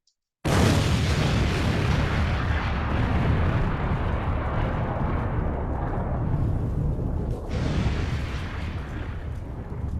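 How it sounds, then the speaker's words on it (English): An explosion sound effect is played during a quiz session: after half a second of silence, a loud blast erupts abruptly and rolls on as a dense, sustained roar that only slightly fades over ten seconds. "I'm gonna give you guys an explosion"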